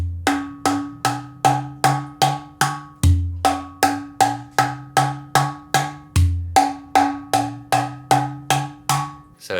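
Hand drum played with a tone-changing variation, struck steadily as the hole is gradually opened, giving a fast, even run of sharp, close hits with periodic brief pauses between phrases.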